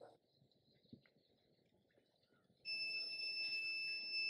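Quiet background chatter gives way to a loud, continuous high-pitched electronic buzzer tone from an ESP8266 home automation level alarm that persists steadily.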